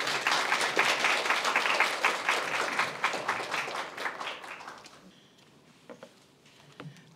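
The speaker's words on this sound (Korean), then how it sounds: "박수로 맞아주십시오" An audience at a Korean social-contribution academy lecture gives a lecturer a welcoming round of applause, dense and sustained for about five seconds before thinning to a few scattered claps.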